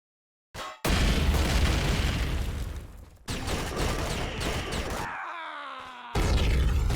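Core destroyed in Empyrion Galactic Survival, a string of loud booming explosions with sharp onsets and rumbling tails, separated by brief gaps and a groaning tonal sweep, no talk.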